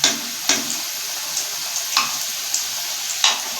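Homemade doughnuts frying in oil over a low flame: a continuous close sizzle with several light ticks and clinks scattered through it.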